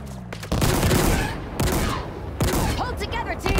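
Covering gunfire in a video game bursts out in rapid, loud volleys that keep rolling with short gaps, with voices calling out over the shooting.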